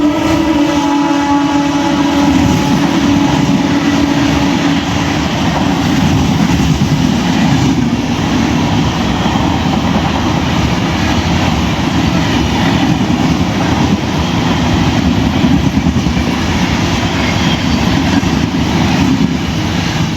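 Coimbatore Intercity Express superfast train sits at a station running 20 minutes late, with a steady loud rumble of engine and carriages, broad constant noise throughout and no talk.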